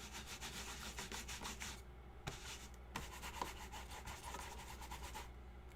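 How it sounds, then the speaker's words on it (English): A scrub pad rubbing a rubber craft stamp clean, quiet repeated scratchy strokes in a steady back-and-forth rhythm with short pauses, close up, no talking. "I clean my stamp."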